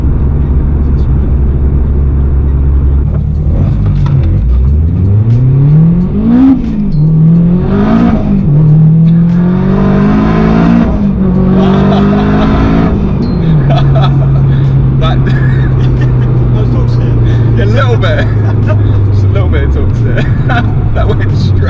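A big-turbo 534 hp Honda Integra DC5 Type R accelerates hard from inside the cabin, its engine note climbing through several quick shifts with sharp dips between gears, then settling into a steady drone as occupants talk over it.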